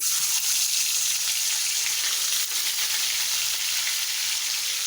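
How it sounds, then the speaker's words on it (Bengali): Hilsa fish frying in a pan, a loud, steady, dense sizzle that stays even throughout, close up with no talking. "এখন মাছটা ভেজে নিব"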